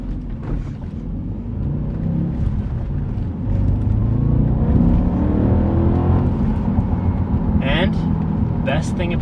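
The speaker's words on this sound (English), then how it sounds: "oh, the sound of that naturally aspirated V8 is so intoxicating" A 2008 Audi RS4's naturally aspirated V8 revs through the lower gears, its engine note climbing and swelling steadily, loud and close, while someone talks over it throughout.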